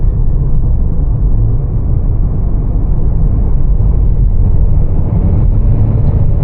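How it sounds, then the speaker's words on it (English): The 3-cylinder turbo engine of a 2025 Ford Bronco Sport Big Bend drones on in a loud, steady low rumble heard from the cabin while driving, with no break or change in pitch. "I really like the 3-cylinder turbo. I think it sounds very interesting."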